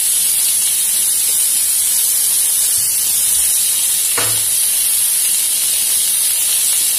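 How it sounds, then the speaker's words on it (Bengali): Panch phoron spices hiss in hot oil in a pan, making a loud, steady high-pitched sizzle that runs the whole time, with a brief soft knock partway through and no talking. "তো একটু অল্প একটুখানি তেল দিয়ে পাশে পাঁচফোড়নটা দিয়ে দেবো"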